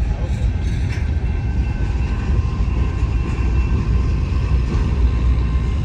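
Union Pacific eastbound manifest freight led by locomotive #2678, with wrecked locomotives dead in tow, rumbles past close by as a loud, steady roar of rolling wagons and wheels, with faint horn-like tones above.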